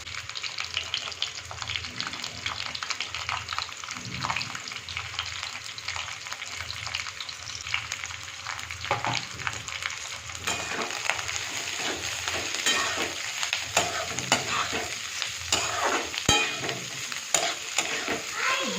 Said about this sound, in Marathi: बाकीच्या ज्या भाज्या पण आपण कट केल्या होत्या त्या पण आपण यात फ्राय करून घेणार आहोत